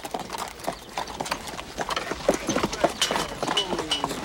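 Hooves clip-clop steadily on a hard surface in an irregular walking rhythm, with faint background noise and no clear talk.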